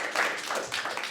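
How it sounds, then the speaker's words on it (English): Live audience giving a round of applause, a brief, fairly faint patter of clapping hands from a small crowd, lasting only about a second. "Maybe we can have a round of applause that the audience at home really knows that you're there."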